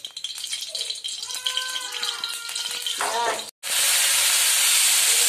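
White oil poured into a hot wok on a gas flame for chow mein, sizzling and hissing loudly and steadily at close range after a brief rattle of the pan and utensils.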